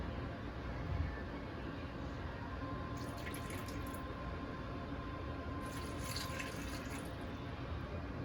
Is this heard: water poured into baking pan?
yes